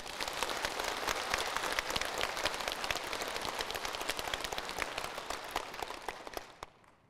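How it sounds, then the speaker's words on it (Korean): Audience applause at a Korean church revival lecture, a dense steady wash of many hands clapping for several seconds before tapering off at the end. "아멘. 박수."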